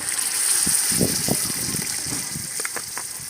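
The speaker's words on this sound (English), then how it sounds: "Now we will use our already boiled water" Already boiled water pours from a container into a salted stew pot in an African village kitchen, a close gushing splash with a steady hiss and irregular glugs running the whole time.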